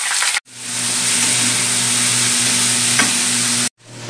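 Onion dropped into hot oil in a kadhai with asafoetida and chillies sizzles loudly and steadily at close range, with a scrape of stirring. The roar cuts in and out abruptly at the start and end, and no one speaks.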